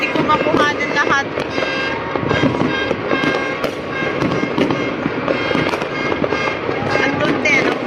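New Year 2025 fireworks exploding in a dense, continuous barrage, with sharp bangs and crackles overlapping throughout, some whistling rockets, and excited voices talking over the blasts.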